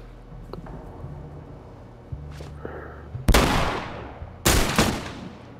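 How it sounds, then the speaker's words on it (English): Two sharp rifle shots in The Last of Us Part II, each a loud, close crack with a fading tail, spaced about a second apart after quiet rustling and footsteps. "Dang, this rifle straight one-shotting people."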